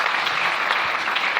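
Church congregation applauding during a French-language Sunday service, a steady dense wash of many hands clapping close by, continuous and loud throughout.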